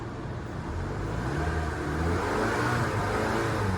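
A 2013 Toyota Camry engine hums steadily, then revs up, its tone rising and swelling close by before holding at a higher pitch.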